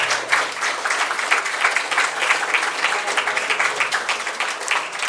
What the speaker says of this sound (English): I think they deserve more applause